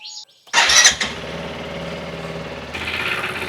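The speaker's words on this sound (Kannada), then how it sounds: "ಇವಾಗ ಬೈಕ್ ಸ್ಟಾರ್ಟ್ ಮಾಡೋಣ" A motorcycle engine cranks with a loud burst, then settles into a steady, rumbling idle that carries on to the end.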